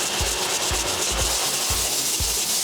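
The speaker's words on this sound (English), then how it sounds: "I'm gonna touch up the rest of the bottoms with the wire tip bristle brush once again." A wire bristle brush scrubs the soles of a pair of Jordan 3 sneakers with close, rhythmic rasping strokes roughly every half second under a constant hiss.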